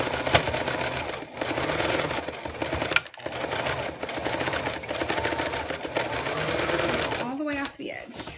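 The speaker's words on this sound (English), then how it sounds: "And sew as close to the zipper as you can" A domestic sewing machine stitches along a zipper in a steady whirring run, with brief stops as the fabric is repositioned and a few rustling handling noises near the end.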